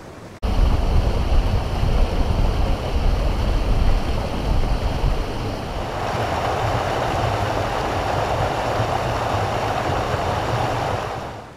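Steady broadband rush of a waterfall in the Peak District in midwinter, loud and continuous throughout, with no voices.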